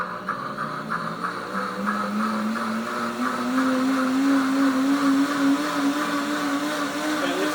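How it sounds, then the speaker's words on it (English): A heating blender blending soup runs steadily, its motor whirring loud and close, the pitch slowly rising as it churns for several seconds. "It's going to blend for the next 20 seconds and then we'll be done."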